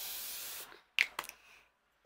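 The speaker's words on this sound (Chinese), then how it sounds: "我们也开始用痒痒喷雾" Short bursts of a facial mist spray being sprayed outdoors in sunny Xinjiang, a long steady hiss followed by a pause and then a few quick puffs, close and alone.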